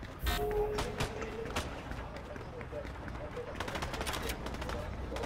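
Rapid bursts of Fortnite gunfire crackle over a steady background, with several sharp shots early and a dense rattling stretch toward the end.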